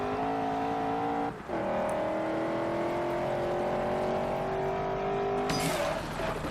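A Corvette muscle car driving in Forza Horizon, its engine droning steadily with pitch shifting between gears, a brief dip in the middle and a tire squeal or rev surge near the end, loud and alone without voices.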